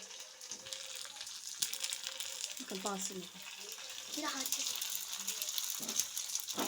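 Puris for pani puri deep-frying in hot oil in a kadai at home, a steady faint sizzle and bubbling with small clinks, under someone talking.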